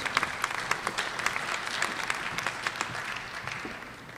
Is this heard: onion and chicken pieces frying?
no